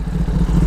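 Kawasaki ZX10R sport bike engine running with a deep, steady low rumble and mechanical clatter, close and loud, in a brief moment of sustained idle-to-rev tone.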